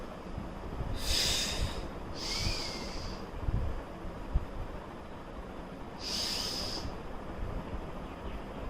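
Breathing during a plank-style exercise, with three or four close, breathy hisses of air a second or so long, spaced a few seconds apart over faint background rumble.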